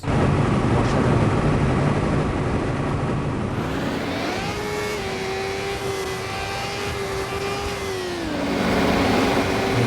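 A Kawasaki Ninja superbike engine in a racing video game gives a loud continuous whine that climbs in pitch, holds a high steady tone through the middle, then drops back near the end.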